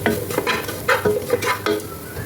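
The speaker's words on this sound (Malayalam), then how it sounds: "മസാലയുടെ പച്ചമണം മാറുന്നവരെ നന്നായിട്ട് അത് ഇളക്കുക." Chili powder, crushed pepper and garam masala fry in a pan, a constant close sizzle broken by about five quick scraping stirs in an uneven rhythm.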